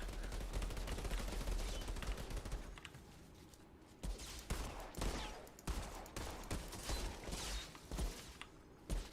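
Weapon fire in the shooter game Outriders, a volley of sharp shots and bursts with a short quiet gap midway, then more scattered reports fairly close by.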